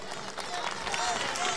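Audience clapping at the inauguration of Peru's first wind farm in Marcona, a short, steady patter of applause from a gathered crowd with faint talk mixed in.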